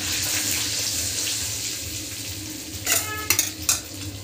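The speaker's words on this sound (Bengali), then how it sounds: "এবার তেলটা গরম আছে, এতে দিয়ে দেবো কিছু গরম মশলা," Garam masala, cumin and green chilli hit hot oil in a pan with a loud, steady broadband sizzle, followed near the end by a few clicking stirs or clinks of a utensil against the pan.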